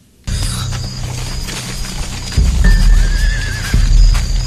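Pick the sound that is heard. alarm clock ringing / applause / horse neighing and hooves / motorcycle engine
horse neighing and hooves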